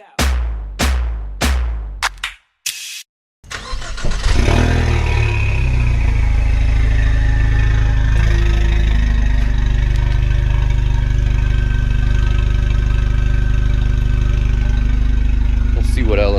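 EcoBoost Mustang with muffler delete and catless downpipe: several rapid starter cranks, then the engine catches and settles into a loud, deep, steady idle rumble close by.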